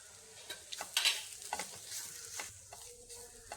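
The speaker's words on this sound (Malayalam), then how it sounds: "ഇനി ഇത് കുറച്ച് സമയം ഇളക്കി കൊടുക്കാം" Soybean thoran with grated coconut being stirred in a pan, a spatula scraping and tossing in repeated close strokes over a soft continuous sizzle, with no talking.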